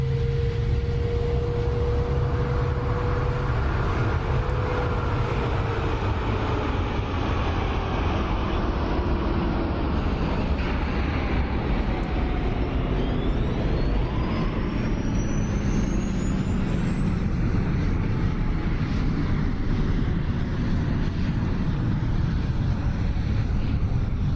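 F-22 Raptor jet engines spooling down in the DCS flight simulator, a loud steady roar with tones sliding gradually lower over about twenty-four seconds, constant and close.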